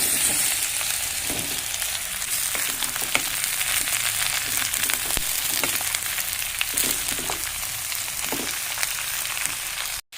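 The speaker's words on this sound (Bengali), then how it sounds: "আলুগুলোকে নাড়াচাড়া করে এর মধ্যে এবার কেটে রাখা বেগুনগুলো দিয়ে দিলাম" Potatoes frying in hot oil with chopped eggplant tossed in, a steady loud sizzle with occasional stirring scrapes throughout, cutting off abruptly at the end.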